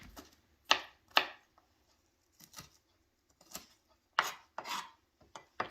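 Asparagus being chopped on a cutting board, about a dozen sharp knife strikes coming singly and in small bursts with quiet pauses between them, close and with no talking.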